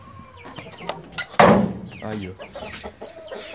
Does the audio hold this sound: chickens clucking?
yes